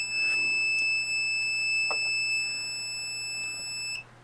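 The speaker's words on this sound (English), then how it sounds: "the buzzer is now buzzing" Electronic buzzer of a LoRa remote door alert sounding a steady, continuous high-pitched tone at close range for about four seconds before cutting off.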